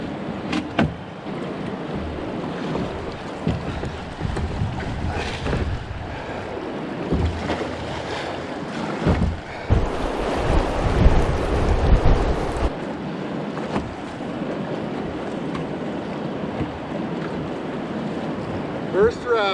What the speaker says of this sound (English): About to bomb some rapids, solo trip on the upper Magnetawan River.